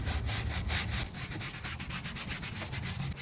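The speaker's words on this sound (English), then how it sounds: "we are gonna clean the tire with some all-purpose cleaner and just scrub it all down" A wheel brush loaded with all-purpose cleaner scrubs a car tyre up close, giving rapid rhythmic back-and-forth scrubbing strokes, wet and bristly, with no talk.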